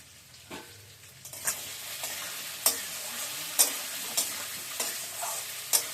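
Mukhi kochu (taro) is stirred and fried in a pan with salt, turmeric and spices, sizzling steadily. Occasional sharp scrapes and taps of the spoon against the pan come through close by, with no talk.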